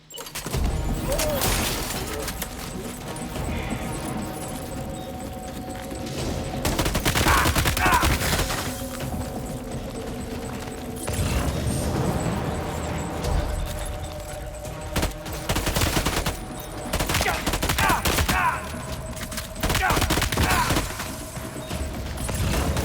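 Shotgun fire in the video game Death Stranding 2 on the Beach, heavy blasts and clattering bursts repeating in clusters across a long stretch, with mechanical handling noise between shots and a voice occasionally talking.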